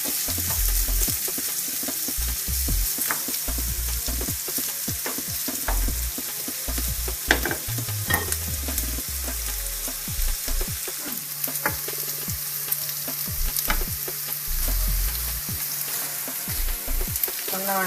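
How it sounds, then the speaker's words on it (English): Onions frying in a pan before going into a crock pot: continuous near sizzle with frequent stirring knocks and scrapes, no voices. "Always love the sound of frying onions."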